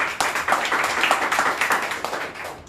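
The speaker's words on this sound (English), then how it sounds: "Please welcome Mr. Rohan with clapping" Clapping at a live virtual public-speaking event, a few participants' hands heard through a call, uneven and moderately loud for a few seconds before fading.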